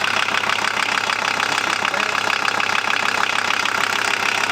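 Older-type engine of a 1994 VW Transporter T4 running steadily, a close, loud, rough idle with a knocking, vibrating rhythm that holds even throughout.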